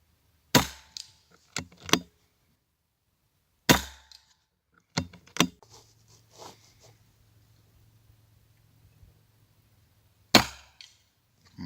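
A Daystate Red Wolf air rifle fires at field targets out to about 60 yards: several sharp, loud cracks spaced seconds apart, each followed by a brief faint knock of the pellet striking, with quiet gaps between.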